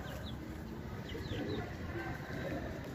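Pigeons coo softly in a loft, giving a few faint, low, throaty calls over a murmuring background, with a high electronic whine present throughout.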